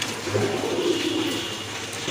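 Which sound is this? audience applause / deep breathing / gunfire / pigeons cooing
pigeons cooing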